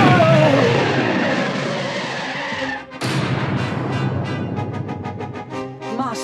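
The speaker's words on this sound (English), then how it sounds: "I'm gonna have to hit the braking thrusters awfully hard" Spaceship braking thrusters roar in a Star Wars video game, a loud dense rushing blast with a falling whine that cuts off sharply, then a second burst of stuttering pulses.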